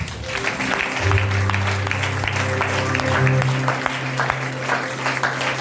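A church congregation at a New Year's Eve service applauds steadily in praise of the Lord, with a constant low hum running beneath the clapping.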